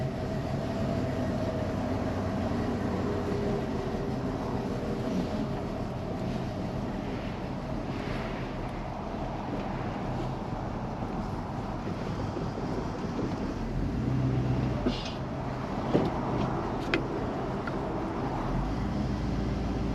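A squarebody Chevrolet truck engine runs steadily while the truck is driving, a continuous low rumble with wind and road noise layered on top and a few brief clunks near the end.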